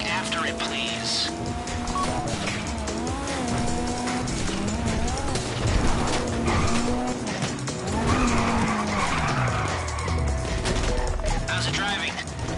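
A getaway car in GTA V revs and skids, its tires squealing through sweeping engine tones while gunfire crackles in the background, with voices talking over the continuous loud driving.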